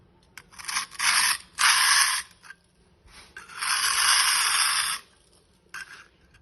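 Mineral plaster softened by a chemical stripper is scraped off a wall in a few long, harsh rasping strokes with pauses between them, close by and loud.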